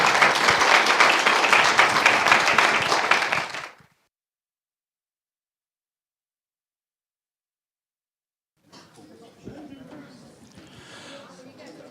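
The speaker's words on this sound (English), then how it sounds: "Please could we have a huge round of applause for Tim and Gemma." Audience applause for Tim and Gemma at a press and communications session, several seconds of vigorous clapping that cuts off abruptly into silence, followed later by faint room noise and a voice.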